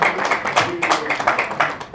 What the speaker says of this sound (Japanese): 拍手をいただきました